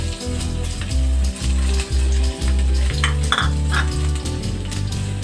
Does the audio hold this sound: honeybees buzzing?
no